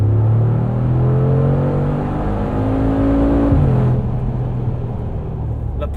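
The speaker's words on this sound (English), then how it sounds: "The power from this 4-liter Biturbo is just effortless" Mercedes-AMG G63 with a 4-liter biturbo engine, a 2020 model on winter tires, accelerating hard from inside the cabin, a deep rising engine drone that drops with a gear change, under steady road and wind noise.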